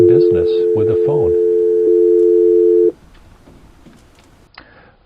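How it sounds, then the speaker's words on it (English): A Cisco IP phone on version 14.1(1) firmware gives a steady, loud dial tone for a few seconds. Speech is heard at the start, and faint clicks and room sounds follow after the tone stops. "Yeah, we have dial tone, and we're pretty much in business with the phone."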